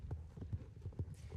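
Horse hooves clip-clopping at a steady walking rhythm in the online horse-riding game Star Stable, a soft, even series of low thuds with a faint hum behind.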